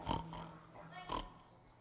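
A person imitates a pig with two short nasal oinking grunts, the second about a second after the first, spoken by a narrator in a church service.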